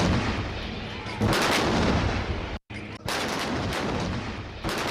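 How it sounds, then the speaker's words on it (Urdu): Heavy booming cannon blasts of a 21-gun salute at King Khalid Airport in Riyadh, loud and rolling, with a brief pause between reports and a dense rumbling echo filling the scene. "وزیر اعظم کو 21 توپوں کی سلامی دی گئی۔"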